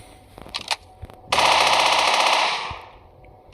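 Automatic gunfire in an offline mobile shooter game, a few quick shots and then a loud sustained burst lasting about a second that fades with an echoing tail, with no talking over it.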